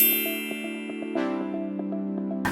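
A bright notification bell ding sound effect, a clear metallic chime repeated in rapid tinkling strikes with a louder ring midway, ringing on alone without any talk.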